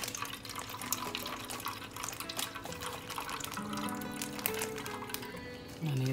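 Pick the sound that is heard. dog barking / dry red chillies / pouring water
pouring water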